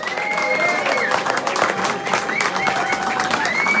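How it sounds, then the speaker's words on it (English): Audience at a Leytonstone live music night applauding the band, steady dense clapping with scattered cheers and whistles sustained throughout, close and loud. "Give them a big round of applause."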